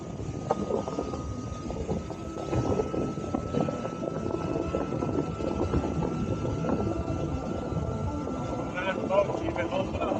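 A 1966 Evinrude Sportsman outboard motor runs steadily on a boat on the water, a continuous droning hum with wind buffeting the microphone and people talking over it.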